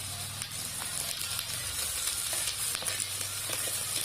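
Grasshoppers deep-frying until crisp in hot oil, giving a loud, steady crackling sizzle that runs unbroken from start to finish with no voices.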